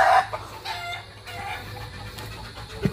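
Chickens on a farm cluck and call close by in short, irregular bursts, with a louder squawk at the start, over a low background hum.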